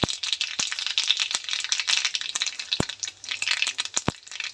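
Mustard seeds and cumin sputter in hot oil, giving rapid irregular crackles and sharp pops over a steady sizzle, close and bright.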